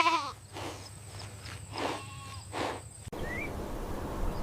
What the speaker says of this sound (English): This is a medium black farm goat.